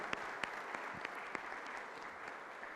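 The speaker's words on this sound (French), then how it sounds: "inviter tous les participants à vous applaudir pour vous marquer notre reconnaissance" Applause from conference participants thanking a panel, heard as a fairly quiet, even patter of many hands with a few sharper individual claps standing out, steady throughout with almost no voices.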